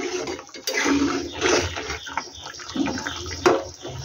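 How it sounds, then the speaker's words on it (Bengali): A thin tangra fish curry with potatoes boils hard in a pot, giving a loud, uneven churn of bubbling and gurgling close by, with no one talking. "দেখুন আমার মাছের ঝোলটা টকবক করে ফুটে গেছে।"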